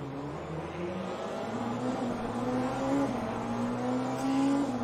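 Racing cars in Le Mans Ultimate drone along with tonal engine notes that rise and fall through gear changes, one engine steady and fairly close while another prototype car closes in, and no talk is heard.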